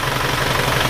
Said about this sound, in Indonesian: mesin ini suaranya agak sedikit lebih kasar daripada yang biru.